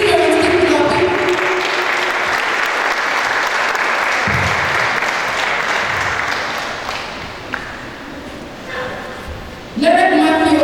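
Parents clap steadily at a Season 3 opening ceremony, a dense, even roar of applause lasting several seconds. A voice speaks at the start and again over the clapping near the end.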